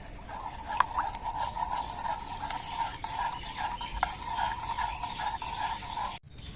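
A spoon stirs and mixes an orange barfi mixture in a bowl, producing soft, repeated rhythmic scraping strokes at a quiet, close level before stopping abruptly near the end.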